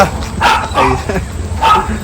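A few sharp dog barks and yips close by, three short bursts spread across two seconds with brief pauses between them.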